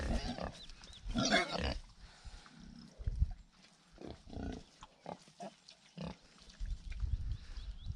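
Several pigs grunt and snuffle at close range, with irregular low grunts and occasional louder squeals scattered across the scene.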